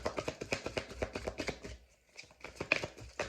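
A deck of daily oracle cards riffled and shuffled by hand, a steady run of quick papery flutters and taps close up with a short pause midway, no talking.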